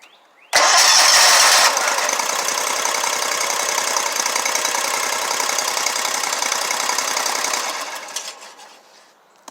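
A Z Master 4000 mower engine, recently fitted with replacement coils after running on one cylinder, cranks and catches, then runs at a steady fast chatter for several seconds before winding down. The engine is close and loud, with no talking.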